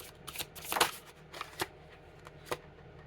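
Tarot cards are shuffled close up in a quiet room: a few quick riffling bursts and soft card slaps spread unevenly over about three seconds, with no talking.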